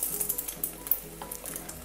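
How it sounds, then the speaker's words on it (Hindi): Potato cutlets coated in beaten egg shallow frying in hot oil in a pan, a soft continuous sizzle with light crackling pops, close and fairly quiet. "डीप फ्राई नहीं करना, हम इसे शैलो फ्राई करेंगे"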